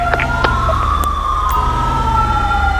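An ambulance siren in GTA V with the LSPDFR mod wails loudly and steadily, its sliding tones sweeping up and down over a low engine rumble, close and with no talk.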